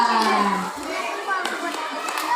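Children in a classroom clap their hands in a light, scattered patter, heard alongside children's voices and the general hubbub of the room.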